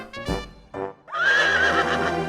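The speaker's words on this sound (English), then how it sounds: "soon he met a horse" A horse gives a loud, close whinny, first with a few short snorts and then a long, wavering neigh that trails on to the end, with no other sounds around it.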